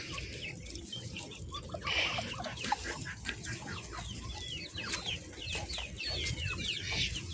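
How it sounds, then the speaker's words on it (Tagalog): Several native chickens clucking and chirping close by, with busy overlapping calls and a faint farmyard background; no one speaks. "Ito pa rin po yung ating mga native na manok."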